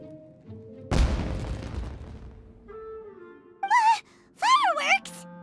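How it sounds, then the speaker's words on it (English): Fireworks explode in the video game Genshin Impact, one loud, close crackling blast that slowly fades, followed by whistling, warbling tones that rise and fall. "It sounded like fireworks."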